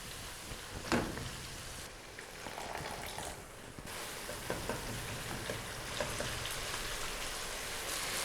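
Ground spices, crushed coriander and salt sizzle and fry in hot oil in a pan for kadhi pakora masala, a steady crackling hiss with an occasional stir or clink, no voices.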